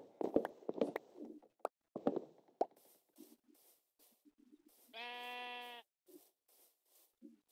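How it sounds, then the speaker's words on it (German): A Minecraft sheep bleats once, a clear, fairly loud tonal bleat lasting under a second, after scattered soft footsteps and clicks of in-game movement. "Also Schaf."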